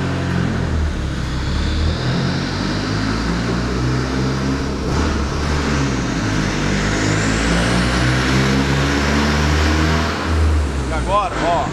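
A car engine revving up in a steady, loud drone with rising tone, heard close by during a test of brake noise after applying an anti-squeal brake product.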